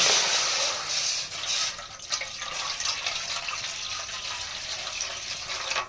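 Steady rushing stream of water pouring into a container for making panaka, continuous and fairly loud with a hollow, splashing character.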